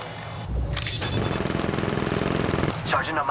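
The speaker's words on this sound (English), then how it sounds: "They're shooting at me!" Apex Legends Mobile gunfire rattles in a loud continuous burst of rapid automatic shots, with sharper single cracks at the start and a game voice line near the end.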